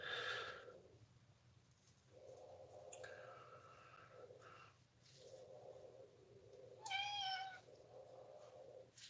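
A cat meows several times in short, separate calls with pauses in between, close and clear, the last meow louder and more drawn out, with faint breathing and snorting sounds in the quiet gaps.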